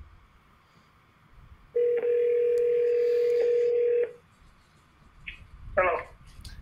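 A telephone dial tone sounds while an outgoing call is placed: a loud, steady, continuous tone of about two seconds that cuts off abruptly, followed by quieter background noise and a short burst of sound.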